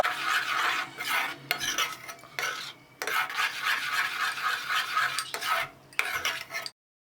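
Badam halwa being stirred in a pan with plenty of ghee: steady, close scraping and rasping of a spoon against the pan, in long continuous strokes with a few brief pauses, no voices.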